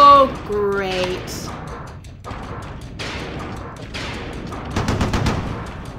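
In the game Schuld, machine gun fire rattles in short clustered bursts among thuds and explosions, mid-loud, with a few tonal game effects at the start.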